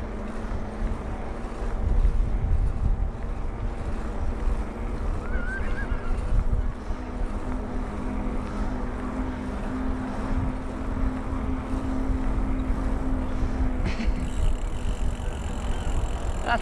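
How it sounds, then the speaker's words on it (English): Steady wind rushes over the microphone while a mountain bike rolls along a breezy Cornwall clifftop near St Ives, a continuous loud roar with gusting texture, occasional rattles and a low hum throughout, no talking. "It's breezy, but it's nice."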